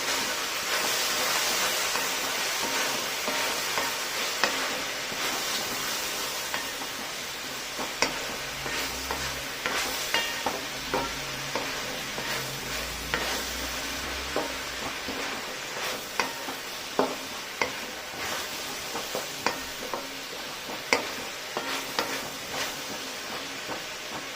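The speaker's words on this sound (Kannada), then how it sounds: "ಎರಡನ್ನೂ ಒಟ್ಟಿಗೆ ಸೇರಿಸ್ಬಿಟ್ಟು ಚೆನ್ನಾಗಿ ಫ್ರೈ ಮಾಡ್ಕೊಳ್ಬೇಕು" Mushrooms and spring onion frying together in a pan, a continuous sizzle and hiss with scraping, clicking stirs throughout, close and steady with no talking.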